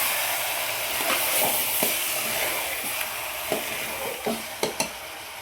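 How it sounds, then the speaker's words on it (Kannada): Mutton sambar masala sizzles and fries in hot oil as a spoon stirs it, giving a steady close hiss broken by scraping strokes and a few sharp clicks toward the end. "ಇವಾಗ ಚೆನ್ನಾಗಿ ಮಿಕ್ಸ್ ಮಾಡ್ಕೊಳ್ಳಿ ಆಯಿತಾ."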